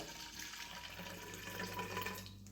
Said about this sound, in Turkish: şöyle bir miktar suyu kabının içine boşaltacağım